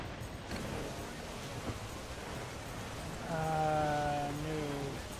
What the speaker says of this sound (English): every time I cross over here, it goes from sunny and clear to frickin' rain